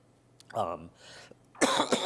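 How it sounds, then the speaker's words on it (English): A voice makes a short sound, then a hoarse cough from a sinus infection follows, and a sharper, louder cough comes near the end, close and unaccompanied. "I've developed a cough from my sinus infection"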